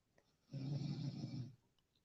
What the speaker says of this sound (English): I can hear loud snoring